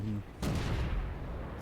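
A single tank cannon shot fires in the World of Tanks video game, a sharp loud blast followed by a rumbling decay, with a brief low hum just before it.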